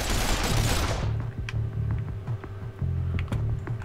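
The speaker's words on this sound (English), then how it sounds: "my bloke's getting shot there" Gunfire in the video game Breach & Clear: Deadline, a dense loud burst at the start followed by scattered sharper shots and rhythmic mechanical thumps.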